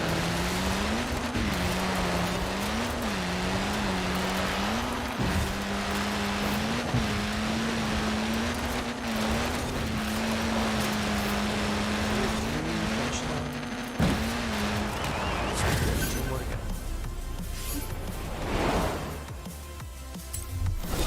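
Full-size trucks, including six-wheelers, a Velociraptor and a G-Wagon, racing in Forza Horizon 4, with a steady droning engine note rising and falling through gear changes, tire noise layered on top, and a sharp shift near the end.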